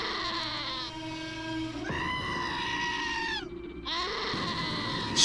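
A goat in Wasteland 2 bleats in long, wavering, nasal cries, several drawn-out calls one after another, loud and close, with a short dip between the last two and no talking.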